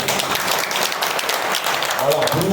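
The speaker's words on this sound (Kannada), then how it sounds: "ಎಲ್ಲರೂ ಒಂದು ಚಪ್ಪಾಳೆ ತಟ್ಟೋಣ" Applause from a temple audience for Manjunath Swamy: a steady, dense wash of many hands clapping together for a few seconds, with a voice rising faintly near the end.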